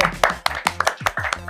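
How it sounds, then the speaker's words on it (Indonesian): Rhythmic hand clapping at a school youth carnival: a run of sharp, evenly spaced claps, about one every fifth of a second, heard close and under people talking. "Tepuk tangan dong"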